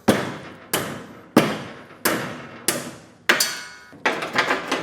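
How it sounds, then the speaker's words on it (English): Ball peen hammer striking metal parts while rebuilding an old car hauler, seven sharp ringing blows at a slow irregular pace, loud and close with no talk. "I'm using the ball peen hammer"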